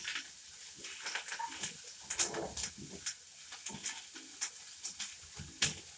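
Chopped green onion and cilantro fry in a pan with a quiet, crackling sizzle. Light, irregular clicks and scrapes from stirring sound close at hand.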